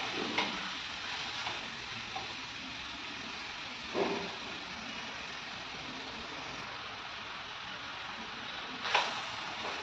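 Cauliflower and water stirred into sizzling masala in a pan, a soft continuous frying hiss with occasional light scrapes and taps of the spoon, quiet and close.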